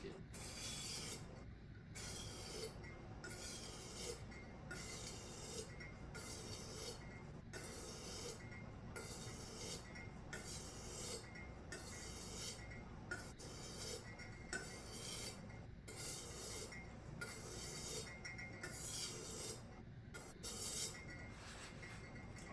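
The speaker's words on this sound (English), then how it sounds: "finally, all the way to the heel, we're going to sharpen our knife" A kitchen knife is drawn along a wet whetstone toward the heel in about a dozen regular, rhythmic gritty strokes with short gaps, close and steady.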